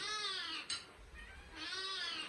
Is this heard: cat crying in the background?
yes